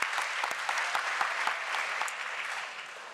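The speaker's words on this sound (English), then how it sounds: "Let's give these incredible speakers one last round of applause" Audience applause at a conference opening plenary, a dense wash of clapping with a few sharper individual claps, holding steady for about three seconds and then easing slightly.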